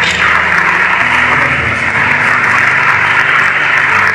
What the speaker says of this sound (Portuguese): Aplauda o nome do Senhor por essas vidas